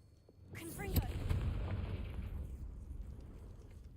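A Confringo blasting spell explodes in Hogwarts Legacy, starting with a sharp crack and a deep boom, then a long rumbling roar that slowly fades, with a voice speaking under it.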